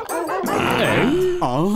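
A cartoon police dog barks and yips in a cheerful, exaggerated voice, loud and close, with a wavering whimper-like tone at the end, likely voiced by a person imitating a dog.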